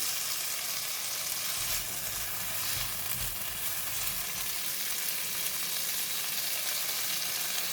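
Chicken, mushroom and yellow onion fry together in a pan for tom yum fried noodles, giving a loud, steady sizzle throughout with a few low stirring scrapes.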